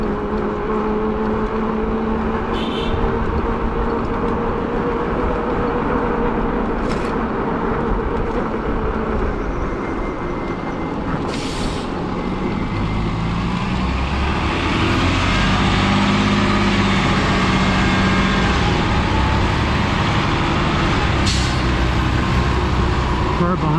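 Road traffic on an evening e-bike ride, with a car close behind, a continuous loud rumble of engines and tires with passing vehicles, occasional sharp clicks and rising whine later.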